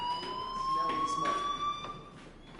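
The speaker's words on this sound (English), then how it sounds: "Hey, do you hear that fire alarm?" A fire alarm rings in a building, a steady electronic tone that holds throughout with pulsing bursts over it, while a voice talks underneath.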